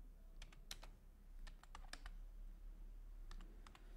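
Keys clacking on a computer keyboard as a command is typed to start a React JS project, clustered bursts of quick, light taps separated by short pauses against a steady low hum.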